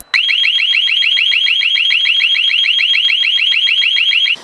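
A loud electronic house burglar alarm siren warbles rapidly and continuously for several seconds, a steady repeating whoop with no other sounds, then cuts off abruptly.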